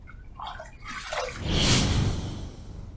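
Water splashes and runs while a face is rinsed after a wet shave, starting with a few light drips and swelling into a fuller gushing rinse close to the microphone.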